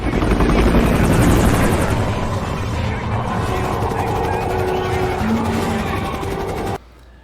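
A helicopter flies close and loud, its rotor beating in a steady throbbing chop with a whining turbine over it before the sound cuts off abruptly at the end.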